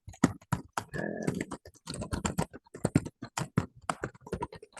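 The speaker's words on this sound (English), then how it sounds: "if we try typing in lots of text" Lots of text being typed on a computer keyboard, a close, fast run of crisp key clicks in uneven bursts with one longer press in the middle.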